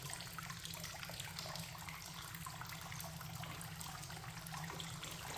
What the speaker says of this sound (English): We'll run a little bit of water in,